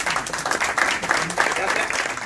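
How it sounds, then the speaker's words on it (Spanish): A brief burst of audience clapping rises at a lecture at the Ateneo de Triana, moderately loud and uneven, with murmured voices underneath. "te pido un aplauso entre todos por lo que lo ha hecho"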